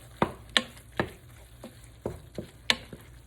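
A spoon works through a mixture of chicken breast and mustard in a bowl, giving six or seven sharp scraping clicks at uneven intervals, close and alone.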